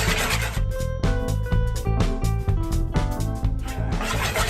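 Fried-chicken batter mixed with butter by hand, making close, uneven squelching and rubbing strokes that pulse steadily at a moderate level, with no voices.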